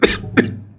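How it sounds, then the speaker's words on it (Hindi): A man coughs twice during a heated Hindi conversation about a khap panchayat dispute. The coughs are short, loud and close, about a third of a second apart, and no one speaks between them. "खांसी चल गई"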